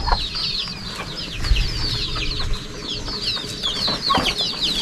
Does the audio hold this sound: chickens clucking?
yes